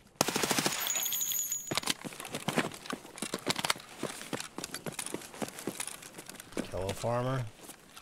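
MP5 submachine gun fire in Escape From Tarkov, rapid sharp bursts of automatic shots repeating irregularly through the clip, close and loud, with a voice talking intermittently between volleys.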